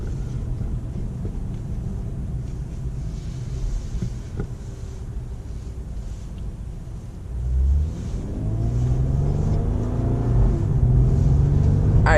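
A Lexus IS350 F-Sport with a 3.5-liter V6, driven in manual mode with paddle shifts, gives a steady low engine rumble from inside the cabin that swells partway through as the revs climb and stays loud to the end.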